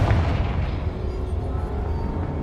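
A Confringo blasting spell explodes in a Harry Potter video game set at Hogwarts, a deep rumbling boom that sustains as a dense low roar for a couple of seconds.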